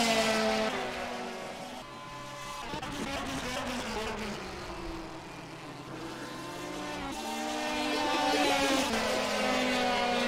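DTM race cars lapping at Misano, engines droning and shifting pitch as they pass, a steady loud roar of several cars blending together throughout.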